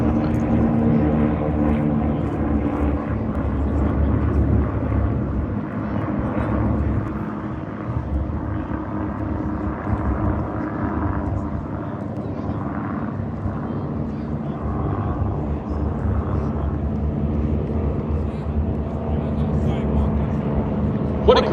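Six de Havilland Chipmunk propeller planes make a low photo pass down the runway at EAA AirVenture Oshkosh, a broad, steady engine drone that stays loud and full throughout as a crowd's chatter mixes in.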